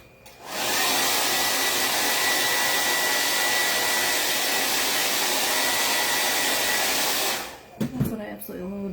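A hair dryer blows steadily and loudly on crimson Waverly chalk paint for about seven seconds, starting and cutting off abruptly, followed by a brief voice.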